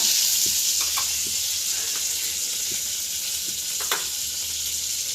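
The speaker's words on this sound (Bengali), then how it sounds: "কালো জিরে ভাজা হয়ে গেছে" Black cumin seeds fry in hot oil in a wok, a steady broadband sizzle running the whole time with a few faint crackles and pops, no talking.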